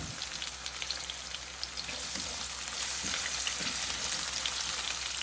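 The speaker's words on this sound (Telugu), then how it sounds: "ఆనియన్స్ బాగా వేగాలండి" Onions fry in a pan with cumin seeds and green chilies, a dense, continuous crackling sizzle up close that swells slightly louder toward the end, with no talking.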